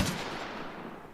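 Gunfire in an online shooting video game, a short dense burst of shots with a sharp attack that decays over about a second, fairly loud, with no talk over it.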